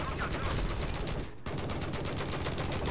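Gunfire in the video game Battlefield 4, a burst of dense, loud shooting that briefly drops out mid-way before the rattling resumes, with game noise continuing around it.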